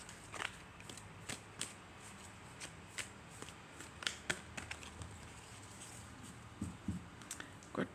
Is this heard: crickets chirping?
no